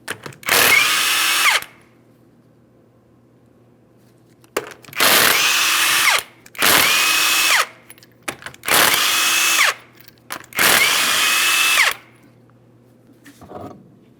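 Power tool spinning off 19mm lug nuts from a Ford Edge wheel in five loud, separate bursts, each whirring for about a second with short pauses between them, and a faint sixth blip at the end.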